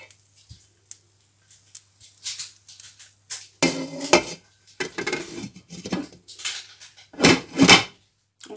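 A lid is set over a frying pan while French pastry turnovers filled with crème pâtissière cook on the stovetop. Close, scattered metallic clanks and scrapes of cookware build toward several louder clatters near the end. No speech.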